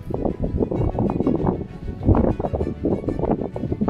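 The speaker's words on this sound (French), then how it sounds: "il y a du vent mais c'est pas non plus trop ultra dérangeant ce truc là" Wind buffets a microphone in a continuous low rumble that swells and dips over several seconds, with no speech.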